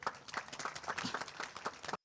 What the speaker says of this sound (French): Je vous demande d'applaudir, monsieur le directeur général.